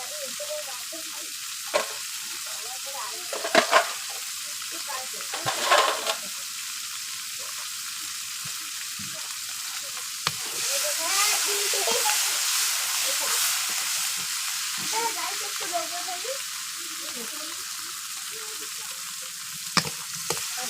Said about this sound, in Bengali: এই দেখুন বন্ধুরা চিংড়ি মাছ ভাজা হয়ে গিয়েছে